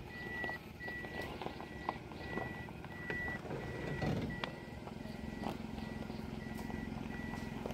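Reversing beeps from a vehicle backing up along a village road repeat at a steady interval, moderately close, over a low engine idle and background noise.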